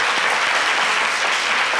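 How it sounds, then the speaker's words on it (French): On a French-language midday TV show, a studio audience claps in a loud, dense, continuous burst of applause that stays even from start to finish. "Applaudissements pour lui."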